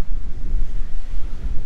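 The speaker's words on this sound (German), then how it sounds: "Hier geht eigentlich immer eine gute Welle und guter Wind." Strong coastal wind buffets the microphone with a low, gusty rumble over the surf at Klitmöller, a surf spot on the Danish coast, loud and steady without any voices.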